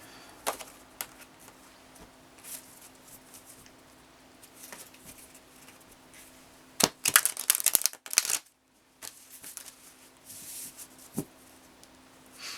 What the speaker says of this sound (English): These cards are real thick, so they're kind of tough to shuffle.